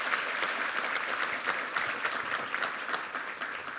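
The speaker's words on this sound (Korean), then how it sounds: "우리 수고하신 우리 지휘자분들에게 한번 격려의 박수 부탁합니다." A church congregation at a New Year's Eve service applauds its choir conductors, steady, even clapping from a large room that carries on without a break.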